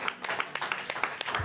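Congregation clapping during a French-language church service acclaiming the Lord, a brisk run of sharp, irregular claps with a crowd murmur underneath.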